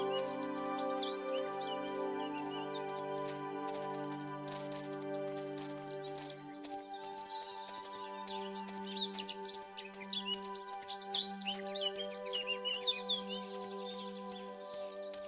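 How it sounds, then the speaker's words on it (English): Birds chirp and tweet in the Minecraft video game, with quick bright calls that grow busier and louder in the second half. Sustained musical tones play underneath the birdsong. "just walking through these lands, the birds chirping"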